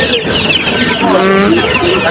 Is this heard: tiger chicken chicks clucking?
yes